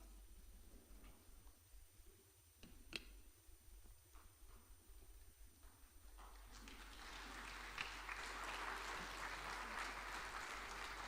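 Congregation clapping in a synagogue sanctuary during a Rosh Hashanah morning service, a soft spattering of hands that swells into steadier, fuller applause toward the end.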